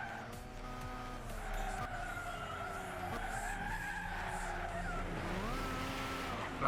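A race car in Gran Turismo 6 brakes late in rain and skids, with a steady loud engine drone and tire squeal sweeping in pitch throughout, up close and continuous.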